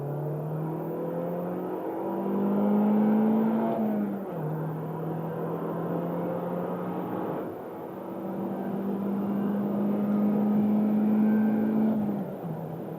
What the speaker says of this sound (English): getting on the highway here, do some hard accelerations